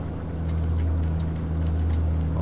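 Volvo truck engine accelerating uphill in Euro Truck Simulator 2, a steady loud low drone with strong harmonic hum holding constant throughout, no voices over it.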